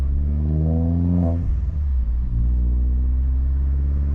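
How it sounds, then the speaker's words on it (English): An Opel Corsa OPC engine revs up, its pitch rising loudly, then drops with a gear change and climbs again, close and powerful. "we're gonna do a pull for you, so you guys can actually hear how awesome this car sounds"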